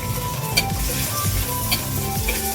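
Food sizzles and crackles steadily in a hot pan, with occasional stirring clatter and a low background hum.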